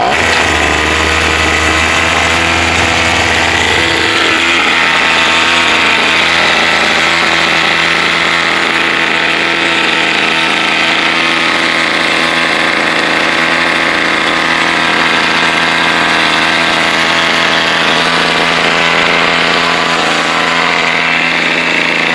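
A grass trimmer fitted with a new Chinese Walbro carburetor runs steadily while cutting grass, its loud, continuous two-stroke drone holding a fairly even pitch close by throughout.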